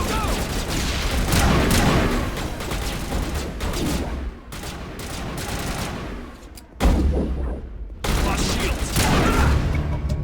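A dense, loud firefight in a Mass Effect Legendary Edition shootout, with sustained automatic gunfire and booming impacts rattling almost without pause, broken by brief lulls.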